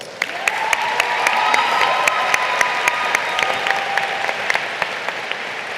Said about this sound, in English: So please give yourself and your neighbors a round of applause.